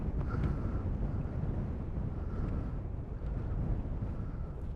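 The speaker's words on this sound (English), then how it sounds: "It's very windy. It's extremely windy." Strong wind by the sea on the coast of Galway and Mayo, Ireland, roars steadily across the microphone, a constant low rumbling buffet with no letup and no voices.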